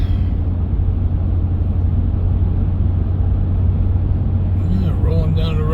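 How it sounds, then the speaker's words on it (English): A car rolls down a highway near Gettysburg with a steady low road rumble and engine drone throughout, and a voice briefly joins near the end. "Rolling down the road here,"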